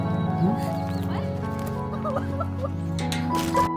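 A horse's hooves clip-clop in a steady rhythm under a constant bed of music or tonal sound, with the patter of the hoofbeats continuing throughout at moderate loudness.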